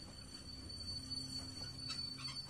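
A train breaking down in The Walking Dead video game: low mechanical rumble with faint squealing wheels and metallic screeches, heard at a quiet, steady level.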